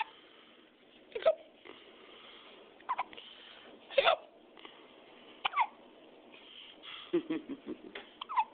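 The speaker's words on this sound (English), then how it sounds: "Hiccup." Repeated hiccups from a young boy, several sharp separate bursts spaced irregularly a second or two apart over a faint background, close to the recorder.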